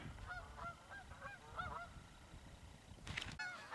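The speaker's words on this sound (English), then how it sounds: "we have geese overhead" Faint geese honk repeatedly in the distance as they fly overhead at a river, a flurry of calls that grows briefly louder near the end over a soft outdoor hiss.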